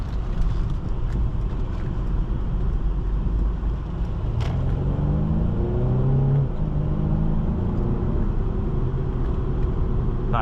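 A 2017 Mercedes-Benz C 300 4MATIC coupe accelerates under steady cabin road rumble, its engine note climbing through rising revs and gear changes, heard from inside with no talking.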